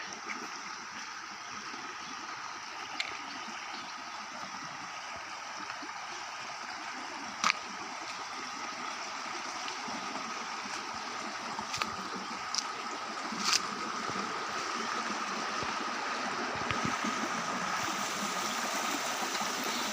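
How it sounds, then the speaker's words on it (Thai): Forest waterfall and stream flowing over rocks in the jungle, a soft steady rush of water heard from nearby, with a few faint clicks and knocks, no talking. "เห็นบ่พี่น้องน้ำตกเขานะ"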